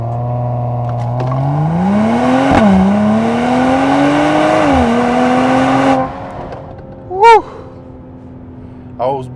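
A Mercedes-Benz GLE 53 AMG makes a launch start, its engine loud and close from inside the cabin, rising in pitch through two gear shifts for about six seconds before dropping to a quiet interior with a few short squeaks.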